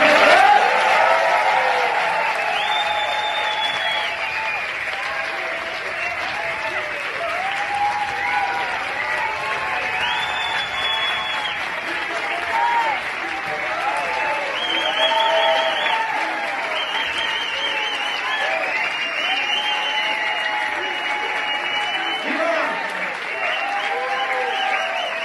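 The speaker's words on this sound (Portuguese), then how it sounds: "essa galera vai bater uma salva de palmas para Julian" An audience applauds Julian Assange in a long, steady burst of clapping with crowd noise, while overlapping voices and cheers rise over the dense applause throughout.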